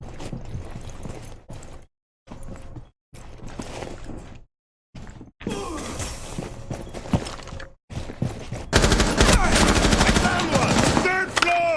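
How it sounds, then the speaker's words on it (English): Bursts of rapid gunfire from a Rainbow Six Siege collegiate esports match, with stretches of quiet between them and a loud, dense volley of fire near the end. "We do hear the gunshots, but not a whole lot happening just yet."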